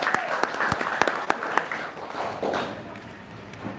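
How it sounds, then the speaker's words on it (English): Audience applause at a school event for children with special needs, a steady wash of many hands clapping with sharp individual claps standing out, fading somewhat toward the end. "Give them another round of applause."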